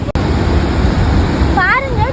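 Niagara Falls roars as a steady, dense wash of rushing water close by, loud and continuous, with a brief high voice or whistle rising over it near the end.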